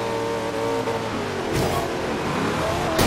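A modified car from a barn, driven in the racing game Forza Horizon 2, revs and accelerates steadily with a continuous engine drone that rises toward the end.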